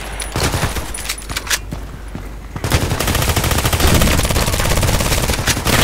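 Gunfire in the online shooter Contract Wars: a few sharp separate shots, then sustained rapid automatic bursts that grow dense and loud and fill the rest of the clip.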